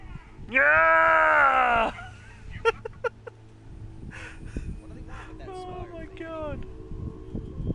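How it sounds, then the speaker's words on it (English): Loud, harsh mechanical roar of a robot dinosaur in a video game, a sustained scream of about a second and a half followed by clanking hits and a shorter second screech, with a voice talking around it. "I'm gonna try to put the volume up so you can hear this scream"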